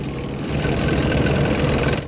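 A military tank engine from a children's vehicle learning game, a steady loud rumbling drone that holds level for about two seconds and then cuts off abruptly, with no voices over it.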